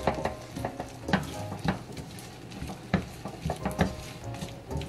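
Chana aloo chaat is mixed in a dish with tomato paste and tamarind pulp, a spoon scraping and clinking in an irregular series of close, sharp knocks with a faint wet churning beneath.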